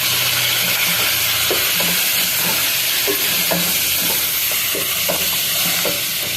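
Spices and mutton frying in a pot for village-style sarson gosht, a loud steady sizzle with the repeated scrape and clack of a spoon stirring in an even rhythm.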